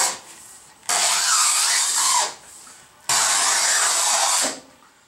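A tool scraping along an aluminum ruler during a CNC lathe repair, in two loud, harsh, gritty strokes, each lasting over a second, with brief pauses between them.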